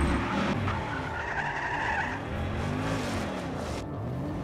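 A car in the video game Just Cause 3 skids with loud tire squeal over a steady engine roar, continuous and close.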